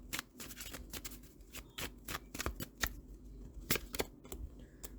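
A tarot deck being handled and shuffled at close range, with a quick run of sharp card riffles and slaps in uneven bursts and no talking.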